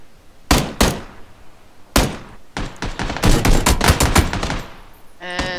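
PUBG gunfire in the video game: sharp individual shots followed by a rapid burst of automatic fire, loud and close, with a few spaced single cracks around it and no talk over it.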